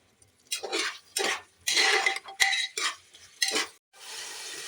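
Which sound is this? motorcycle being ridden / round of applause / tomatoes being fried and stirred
tomatoes being fried and stirred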